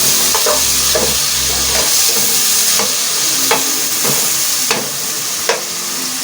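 Spices and tomato roasting in a pan for mash dal, with a steady loud sizzle and spatula scrapes and stirring knocks recurring every second or so, close up and without talk.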